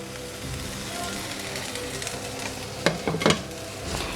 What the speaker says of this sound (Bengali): এটাকেও আমি এখন 30 থেকে 40 সেকেন্ডের জন্য একটু ভেজে নিব